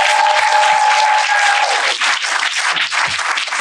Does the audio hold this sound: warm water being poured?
no